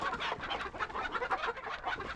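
A flock of chickens in Breath of Fire IV clucks and squawks continuously, a dense, busy chorus of overlapping bird calls at close range.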